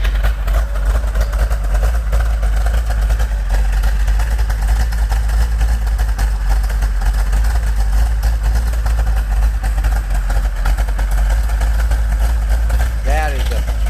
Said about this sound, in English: Let's take a listen to this camshaft.